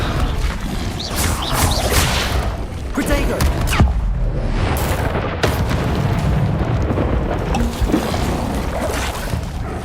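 Spell effects crackle and boom in Hogwarts Legacy gameplay during the Merlin Trials: Incendio, Levioso and Protego, a dense roaring wash with sharp bursts layered over one another, loud and continuous.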